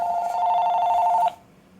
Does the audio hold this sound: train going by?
no